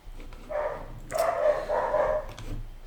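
Several dogs barking indoors in a home, a few bursts of yapping spread over about three seconds at moderate distance, with no talk over them.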